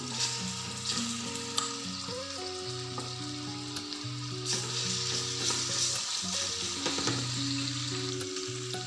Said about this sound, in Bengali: চিকেনটা আমি দিয়ে দিচ্ছি, তেলটা গরম করে নিয়েছি।